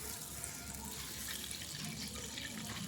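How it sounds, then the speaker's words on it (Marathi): Water pouring from a tap onto mung dal in a plate for soaking, a continuous close splashing flow that runs steadily without pause. "पाणी टाकून दिला, आता आपण हिला भिजू देऊ."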